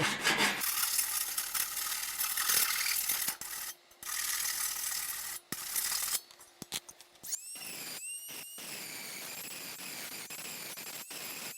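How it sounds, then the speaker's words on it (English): A hand file rasps against tough metal while a grille is being repaired with aluminum welding rods: irregular close scraping strokes for several seconds, broken by brief pauses, then lighter scratchy sounds toward the end. "I'm going to grab a file and see if I can file on that a little bit"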